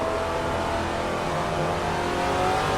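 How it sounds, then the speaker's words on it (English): A vintage Trans Am race car in the Assetto Corsa racing game, its engine droning loud and close with harmonic revs shifting as it downshifts under engine braking, without talking. "Waiting way late on the downshifts here."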